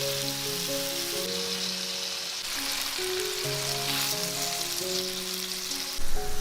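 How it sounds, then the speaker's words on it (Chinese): Thick slices of tofu frying in hot oil in a pan give a continuous crackling sizzle, heard close with music playing over it. Near the end a louder burst of spitting oil comes through. "起锅热油，把豆腐放进来"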